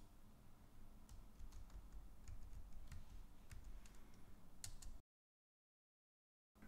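Keys clatter in quick irregular bursts on a computer keyboard while a folder name is typed, close and fairly quiet, ending abruptly in silence.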